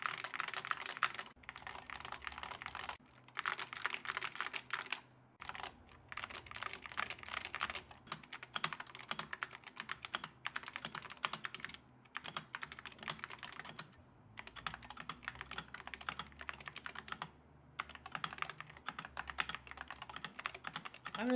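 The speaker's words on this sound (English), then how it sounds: "The sound after the mod is slightly less hollow and the keyboard overall is slightly less loud" Rapid, continuous clacking of an Apex Pro TKL mechanical keyboard being typed on, close and steady, with brief pauses between bursts of keystrokes.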